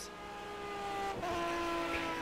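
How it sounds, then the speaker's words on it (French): Aston Martin V12 GT3 race car in a racing video game, a steady loud engine drone with strong harmonic whine, rising slightly in pitch as it accelerates toward a chicane. "Une voiture toujours typée course, moins civilisée avec un gros moteur."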